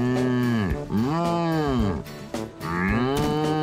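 An animated cow in a cartoon moos loudly several times in a row, with long, drawn-out, bellowing calls close up, after escaping from a farm, with no talking over them.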